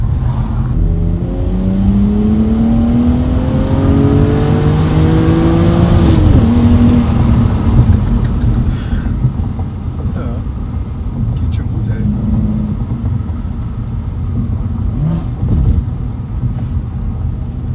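A BMW 330i heard from inside the cabin: a low engine drone rises in pitch as it revs, then settles back to a steady rumble, with people talking over it throughout.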